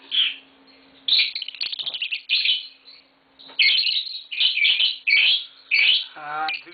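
A pair of green Fischer's lovebirds chirps and sings in close, bright bursts: rapid trills, sharp tweets and short squawky calls come in clusters separated by brief pauses, loud and near.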